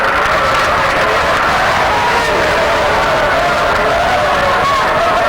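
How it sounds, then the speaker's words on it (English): A high school basketball crowd roars in a packed gym, a dense, loud, unbroken wash of cheering and shouting that stays steady throughout. "You can probably tell by the sound of the crowd noise that a lot of emotion going on here"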